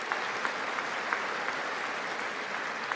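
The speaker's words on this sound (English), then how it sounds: "I bet the whole crowd's gonna clap for him." Steady applause from a large audience at the State of the Union, continuous clapping with a few sharper claps poking out, heard alone without talk.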